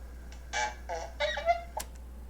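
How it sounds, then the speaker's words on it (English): Comedic horn sound effect, a short series of honking blasts resembling a goose or bike horn, close and clear over a quiet background with no talk. "The horn."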